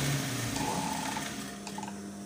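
A sewing machine runs steadily while taking a couple of stitches in frock fabric around a looped neckline, a soft continuous mechanical hum at close range with no talking.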